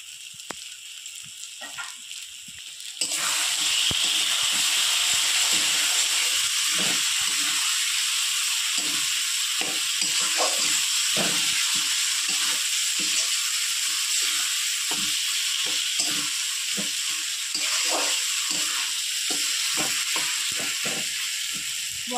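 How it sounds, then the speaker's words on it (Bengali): Spices sizzle steadily in a hot pan after a brief quiet start, with a continuous bright hiss broken by scattered scraping and stirring ticks near the listener. "মশলাগুলো ভালো করে আমি কষিয়ে নেব।"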